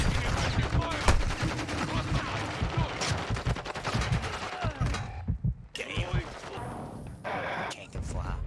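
Rapid bursts of gunfire in Warzone 2.0, a Call of Duty battle royale firefight, crackle loudly and densely throughout, with scattered thuds and a voice talking over the shots.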